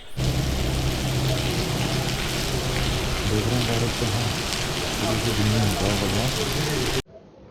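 Steady heavy rain pours down during a stop on an all-India sports bike tour, a loud continuous hiss with dense spattering drops close by, running unbroken for about seven seconds before cutting off abruptly.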